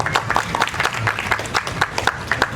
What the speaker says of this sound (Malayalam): നല്ലൊരു കയ്യടി കൊടുക്കാതെ.